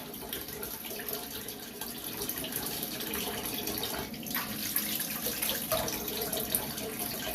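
A bathroom tap runs steadily for several seconds to rinse off after a shave, a continuous close splash and rush of water into the sink with no talking.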